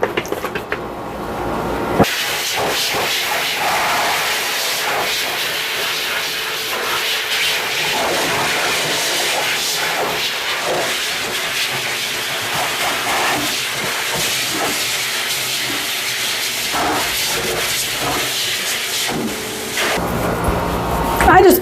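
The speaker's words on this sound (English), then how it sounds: "I just blow dry him for a few minutes" A blow dryer runs on a wet Shih Tzu-Poodle dog, a loud continuous hissing roar that lasts nearly the whole stretch, with a person talking over it.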